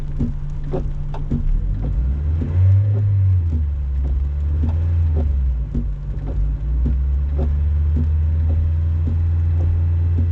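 A manual car pulls away on a hill start, its engine a steady low hum that swells as revs rise and then settles, with a regular clicking tick throughout.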